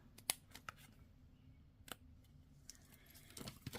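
Scissors snip a tiny piece of dimensional adhesive foam in a few quiet, crisp cuts, close and alone, with faint light handling clicks between them.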